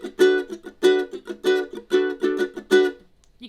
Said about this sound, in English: you can hear those mutes in there